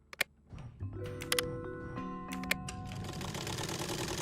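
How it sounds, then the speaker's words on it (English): A sewing machine in the Agatha Christie Death on the Nile video game clicks on and hums, a few sharp mechanical ticks followed by steady whirring tones and a rising motor buzz. "The sewing machine is working."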